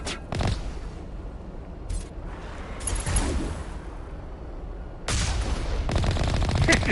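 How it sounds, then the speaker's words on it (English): Machine-gun fire in Mass Effect Legendary Edition, bursts of rapid shots with a louder spell near the end and a low rumbling battle bed in between, no talk. "the machine gun does just as well"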